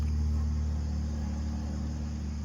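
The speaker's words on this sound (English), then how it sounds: "now there's cars." Cars passing on a road, a steady low engine and tire rumble that holds level and eases slightly toward the end, moderately close, with no talking.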